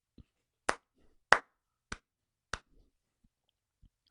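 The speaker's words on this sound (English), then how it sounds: "let me give you one more last clap" One person claps hands slowly, about six sharp, separate claps spaced roughly half a second apart, close and crisp in an otherwise quiet room.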